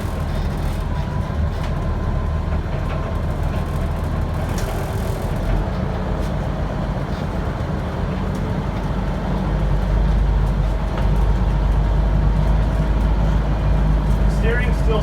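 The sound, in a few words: Peterbilt 359 truck engine driving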